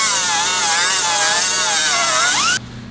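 A power sander with 50 grit abrasive works over a car's engine bay, giving a loud, wavering high-pitched whine that runs continuously for a few seconds and then cuts off abruptly into quiet.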